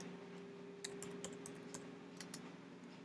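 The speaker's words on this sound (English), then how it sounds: "My typing isn't the best in the world." Sparse keystrokes on a computer keyboard, a handful of light clicks scattered irregularly over a steady low hum, with no talking.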